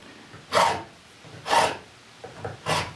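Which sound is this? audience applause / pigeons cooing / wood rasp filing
wood rasp filing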